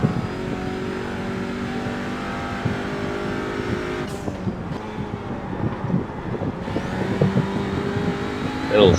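A TCR touring car engine at Imola in a racing video game drones and climbs steadily under acceleration, with wind rush over it, a brief dip midway, then louder revving near the end.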